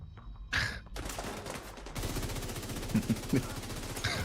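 Enemy automatic gunfire in The Division 2 video game rattles in rapid bursts that grow denser and louder after two seconds, with a few heavier impacts mixed in.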